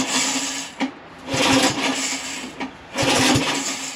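An old Lazy Boy riding lawn mower engine cranks in repeated bursts while being started, with a brief pop among the rough, uneven churning, close and fairly loud.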